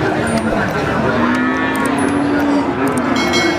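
Simmental cattle moo loudly and continuously over a noisy crowd of voices at a livestock market, with several animals calling at once at close range.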